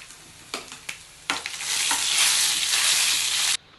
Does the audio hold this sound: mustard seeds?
yes